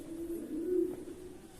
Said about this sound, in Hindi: यहाँ पर कुछ कबूतर वगैरह हैं